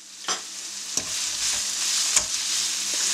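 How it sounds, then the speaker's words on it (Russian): Carrots softened with added sugar are stirred in a frying pan for Asian-style fried rice noodles, a steady sizzle with three sharp scraping strokes of the utensil against the pan, close and clear with no voices. "Далее добавляем сахар и все хорошенько перемешиваем."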